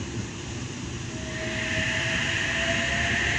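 A passenger train rolls past a station platform, a steady close rumble of wheels and carriages with a thin high squeal joining partway through.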